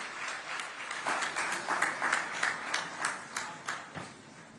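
An audience claps to welcome the Chief Minister at a state workshop event: steady applause with rhythmic pulses and some individually distinct claps, moderately loud, running continuously without talk.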